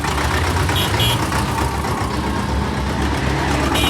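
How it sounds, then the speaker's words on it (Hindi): A real tractor engine idling at a crowded fair in Rajasthan, a loud steady low rumble close by, mixed with crowd bustle and a couple of brief high tones. "ये देखो असली वाला ट्रैक्टर।"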